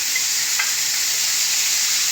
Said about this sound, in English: you want to put that in and work your seasoned steak